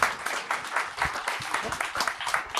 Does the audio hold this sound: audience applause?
yes